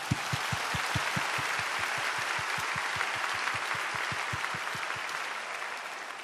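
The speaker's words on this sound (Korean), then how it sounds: "이 시간 최고의 감사와 영광의 박수 올려드리고 시작하길 원합니다" A church congregation at Yonsei Central Church applauds at the opening of a Bible recitation contest on the harvest feast. Dense, steady applause fills the hall, with a regular low thumping beat running beneath it that fades near the end.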